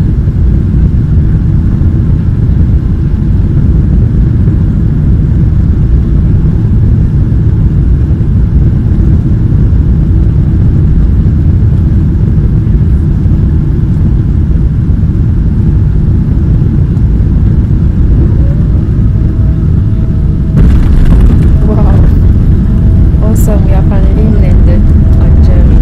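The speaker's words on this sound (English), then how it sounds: "you'll be hearing all the actual noise from the airplane" Steady, loud low rumble of an aircraft cabin during landing with engine roar throughout, a few clinks and rattles near the end.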